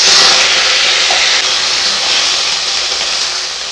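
Cut cauliflower sizzles as it drops into hot oil in a wok, a loud, steady broadband hiss that fades slightly toward the end.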